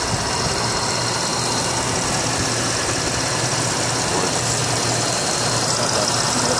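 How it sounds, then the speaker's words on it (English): A 2004 Cadillac DeVille engine idles with a steady, even hum that holds unchanged from start to finish, with no talk over it. "It is running. Look at that engine."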